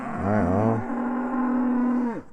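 A cow on a Dartmoor bridle path near Princetown gives one long, loud, close moo that holds steady before tailing off, with no talk over it.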